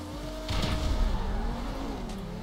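Progen T20, Osiris and Zentorno supercars racing in GTA V, engines revving loudly nearby with a rising-and-falling whine as they launch, a brief swell of roar and tire noise.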